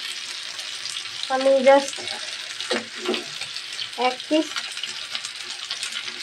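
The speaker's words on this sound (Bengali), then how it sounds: "তো ভাজা হয়ে গেল আমার মাছ।" Hilsa fish pieces sizzling steadily in hot oil, a continuous close crackle with brief stirring clatters, and someone speaking over it now and then.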